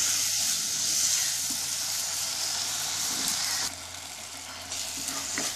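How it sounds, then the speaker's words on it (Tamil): Onions and tomatoes sautéing in a pan for a Tamil kara kulambu, giving a steady, close sizzle and hiss with occasional stirring, no voices over it. "இந்த தக்காளியும் அதே மாதிரி சுருண்டு வர அளவுக்கு நல்லா வதக்கணும்."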